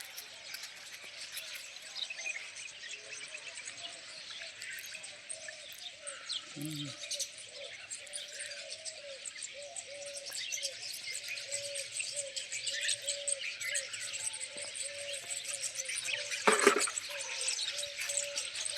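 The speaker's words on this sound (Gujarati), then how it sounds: "ચકલા બોલે છે સવાર સવારમાં" Sparrows chirp in the morning outside a village home, a steady run of small tweets over a faint insect hum, with a brief louder sound near the end.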